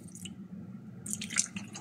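Vinegar drips in a few small drops into a cooking pot while making paksiw na bisugo, with faint soft splashes over a low background hum.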